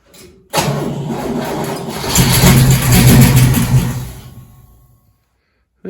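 A 1969 Pontiac Firebird under restoration cranks and fires up after sitting nearly 20 years, running loud and close with a rough idle that swells into a rev before cutting off.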